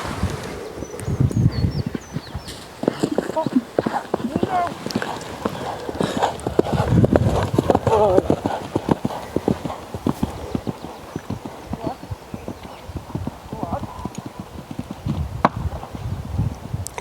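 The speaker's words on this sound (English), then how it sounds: "So we're letting her come now at a good pace where the horse is allowed to get into a nice rhythm." A horse cantering on a cross-country training course, hooves drumming in a steady three-beat rhythm close by, with wind and rustling in the background and no talk over it.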